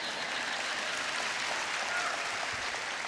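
Audience at a school district staff convocation breaks into dense, continuous applause, a loud steady wash of clapping from a large crowd in an indoor hall.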